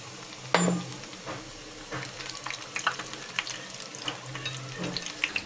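Samosas deep fry in very hot oil, a continuous bubbling hiss with scattered sharper crackles and a few clatters, up close, with no one talking.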